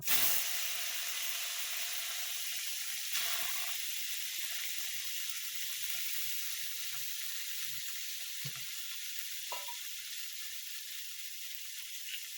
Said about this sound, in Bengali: কোপ্তা ভাজা হয়ে গেছে, এবার চিংড়ি মাছ ভাজবো